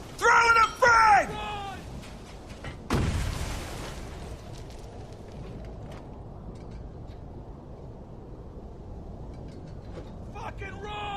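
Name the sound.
frag grenade explosion in Spec Ops: The Line video game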